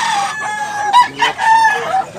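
Fighting rooster at Tabunok market in Cebu crows loudly and close, a strained call with several rising bursts, then tails off amid surrounding market noise.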